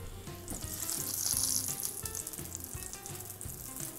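Dried red chillies and curry leaves fried in hot oil for tempering are poured into tomato chutney, giving a loud, steady crackling sizzle that swells briefly and then settles, heard close with no talking.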